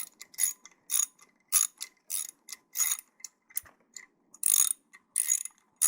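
Hand reamer being worked into a drilled hole on a steering part before tapping threads, giving a series of short scraping, ratcheting bursts in an irregular rhythm, close and fairly loud with brief gaps.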